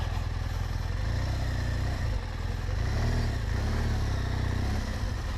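A BMW R1200GS Adventure motorcycle rides an off-road trail, its boxer engine droning steadily and close with a low rhythmic pulse and some clatter, rising slightly in revs midway.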